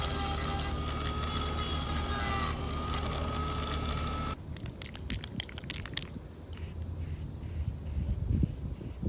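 A steady, loud hiss of spray paint coats the ground-down subframe of a JZ-swapped Nissan 240, running continuously for several seconds before giving way to quieter rattles and clatter nearby.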